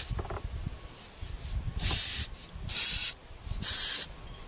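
Silicone spray hisses from an aerosol can in three steady bursts of about half a second each, close and loud, separated by quiet gaps with faint handling noise at the start.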